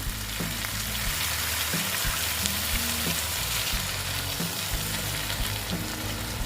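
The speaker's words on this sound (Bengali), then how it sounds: "এখন আমি দেখো মোটামুটি ভাজা হয়ে গেছে এখন আমি এখানে অল্প গরম জল দিয়ে দেবো" Rohu fish fries in a mustard-poppy preparation, with a dense continuous sizzle and occasional sharp crackles, loud and steady with no talk; a low tonal hum runs underneath.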